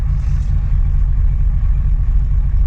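A Bristol VR bus engine turns over and settles into a deep, loud, steady diesel rumble, heard close and alone with no voices.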